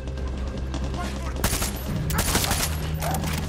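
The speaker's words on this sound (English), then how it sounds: "I don't know what they're shooting at though." Distant gunfire bursts rattle in a Far Cry 6 game scene, starting around a second and a half in and continuing in scattered volleys over steady background ambience.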